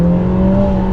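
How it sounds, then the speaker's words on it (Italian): A Lotus Emira with the four-cylinder i4 engine revs hard in second gear, a steady loud droning engine note with strong tonal harmonics holding through the whole second, no voices. "a differenza della manuale questo motore è sempre in tiro, sentitelo"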